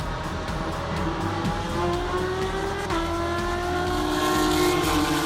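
A BMW race car leading the pack at a racing circuit, its engine droning and rising in pitch through gear changes, with tire squeal and other cars audible nearby.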